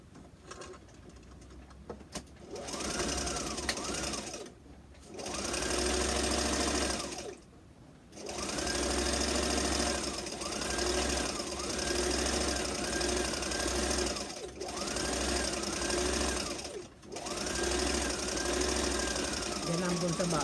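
A home sewing machine stitches a fabric face mask in long steady whirring runs, stopping and restarting a few times, close and fairly loud with no talk over it.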